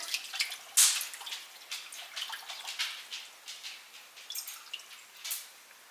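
Two and a half cups of water poured into a pot for tamale pork filling, a gurgling splashy stream of uneven bursts and drips over several seconds, close and fairly quiet, with no talking.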